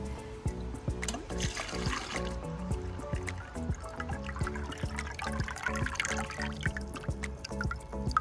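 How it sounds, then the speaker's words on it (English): A public water fountain in a park in Hot Springs, Arkansas, trickles and splashes continuously with a bubbly, pattering flow, steady and fairly close. "There are a couple of water fountains around the park"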